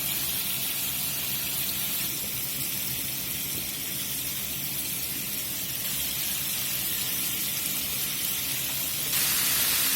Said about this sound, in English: We're frying us up a big old mess of chicken